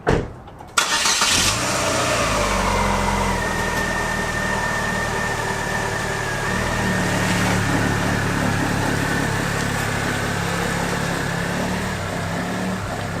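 A car is started and driven on a test drive after a CV axle replacement. A brief crank catches into a steady engine note that holds throughout, close and loud, with no talking.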